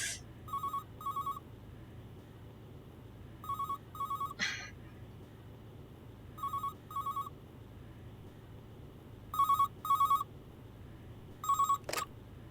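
A telephone rings in repeated double bursts, five pairs spread evenly with pauses between, clear and fairly near in a quiet indoor room, with no talking over it.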